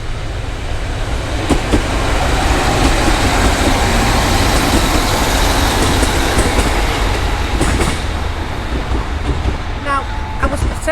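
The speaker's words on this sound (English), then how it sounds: "This is how close we are to trains." A train rumbles past very close at a roadside overnight parking spot, a loud continuous rolling roar with rhythmic wheel clatter for the whole stretch, while people talk nearby.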